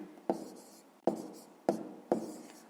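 Handwriting with a pen during a maths exercise: four distinct scratchy strokes at a steady pace, close and fairly quiet, with no talking.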